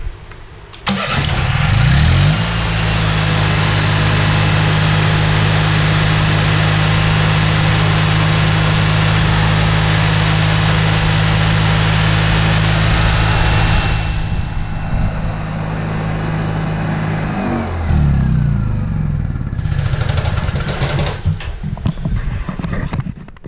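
Small engine with a freed-up stuck throttle governor cranks and catches, then runs loud and steady at high revs with a strong low drone, shifting pitch near the end before settling, close by.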